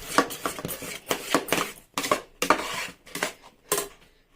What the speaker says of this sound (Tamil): இப்போது நல்லா மிக்ஸ் பண்ணிவிடுவோம்